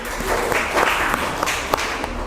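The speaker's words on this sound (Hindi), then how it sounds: "एक बार जोरदार तालियां हो जाए" Audience applause for a contestant at a school quiz competition, a moderate burst of scattered clapping lasting a couple of seconds with a few sharper claps standing out.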